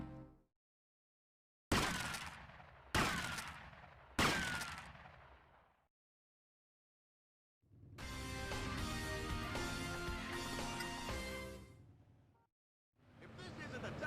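Gunshots in GTA Vice City Stories: three loud, separate shots with decaying echoes, then a long sustained burst of dense firing and a final burst starting near the end, set apart by stretches of silence.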